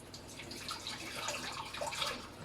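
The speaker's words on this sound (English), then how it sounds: "my hands are a little bit sticky, so I'll just give them a rinse" Tap water running steadily into a kitchen sink while sticky hands are rinsed during cake baking, a soft continuous splashing hiss with faint drips, close by and alone.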